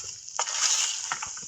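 Onions frying in a pan for a fish roe curry, a steady hiss of sizzling oil with a couple of soft stirring scrapes and clinks, close and fairly quiet.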